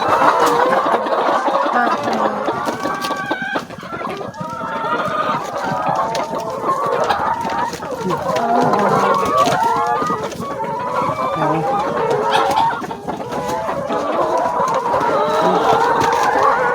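Chickens cluck and call continuously around their feeders as onions are put out for them, a busy, close flock with overlapping clucks and occasional crowing, steady and fairly loud throughout.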